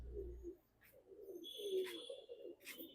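Pigeons coo softly in low, rolling murmurs, several overlapping calls nearby but faint, with occasional brief higher chirps or rustles mixed in.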